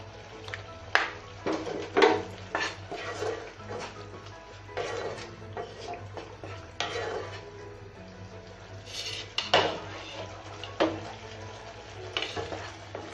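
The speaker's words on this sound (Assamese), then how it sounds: "লৰাই থাকিব, নহ'লে তলত লাগি ধৰিব" Gravy stirred in a pot with a spoon scraping the bottom in repeated irregular strokes over a low simmering sizzle, close and moderately quiet, with no voices.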